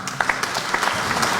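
Audience at a Kenyan political rally claps in a brief, moderately loud burst of scattered applause.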